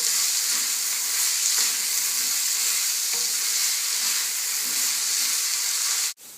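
Short ribs sear in a pan over caramelized onions, sending up a continuous loud, hissing sizzle that stays even throughout, then ends in a sharp click.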